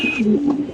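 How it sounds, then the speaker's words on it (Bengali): A white Spanish pigeon gives a single close, loud, throaty coo that rises and then holds, clear and unmasked by any talk. "দেখেন দর্শক কবুতরের ডাক দেখেন"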